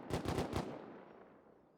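Rapid burst of AK rifle fire in Rust during a 4v4 tournament match, about five quick loud shots within half a second, then a fading echoing tail.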